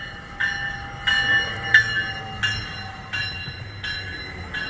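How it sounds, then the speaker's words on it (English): A Montreal commuter train to Saint-Jérôme with Bombardier multi-level cars rumbles steadily nearby, with periodic rhythmic clacks of wheels over rail joints and a faint tonal ring above the low rumble. "And looks like there's the Saint Jerome train."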